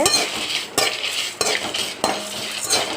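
Dried red chillies frying in a pan for curry leaf powder, with a steady sizzle broken by three or four scraping stirs of a spoon against the metal, close and loud.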